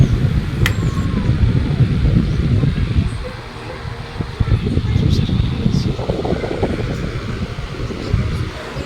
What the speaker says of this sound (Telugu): సో చూడండి, చాలా బాగా రన్ అవుతుంది మోటార్ అయితే.